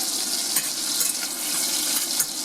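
A flour and butter roux being stirred in a pan, giving a steady hissing sizzle with faint scraping strokes throughout.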